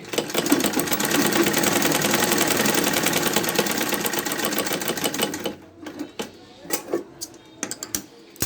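A sewing machine stitches the cup of a bra-cut blouse in a loud, steady run for about five and a half seconds, then stops, leaving a few faint clicks and handling sounds.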